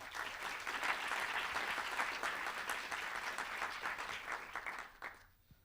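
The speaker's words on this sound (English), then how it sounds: "give a round of applause for our panel" Sustained applause from a conference audience for a panel, a dense continuous patter of many hands that fades out at the end.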